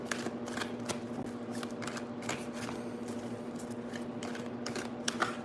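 Tarot cards shuffled by hand in repeated quick riffling bursts, crisp papery flutters close by over a steady low background hum.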